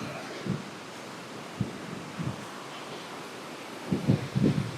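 A waterfall pouring with strong force gives a steady, broad rushing roar with no pauses, and a few low, muffled bumps rise above it near the end.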